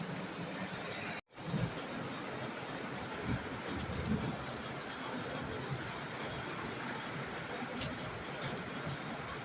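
Steady rain falling and pattering on surfaces, a constant dense hiss with occasional heavier drops, brief dropout early on.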